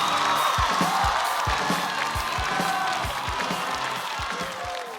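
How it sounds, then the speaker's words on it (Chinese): A stand-up comedy audience breaks into sustained applause and cheering as the next comedian is introduced, with crowd noise and scattered whoops and a steady wash of clapping throughout. "我们掌声有请"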